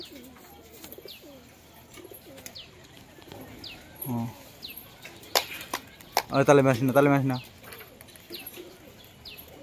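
Pigeons coo softly in low, repeated rolling calls, with a person speaking nearby partway through.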